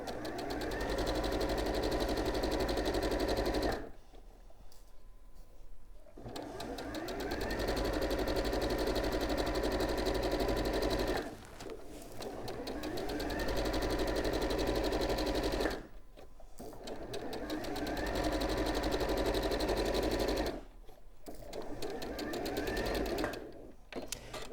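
A sewing machine stitches a dress in several long, steady, whirring runs broken by short quiet pauses. It is close and fairly loud.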